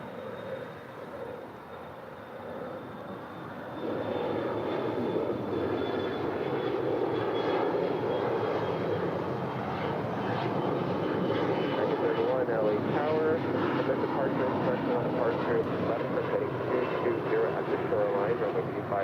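An American Airlines jet takes off from runway 25 right at LAX, its engine roar swelling after a few seconds into a steady, loud, broad rumble that holds to the end.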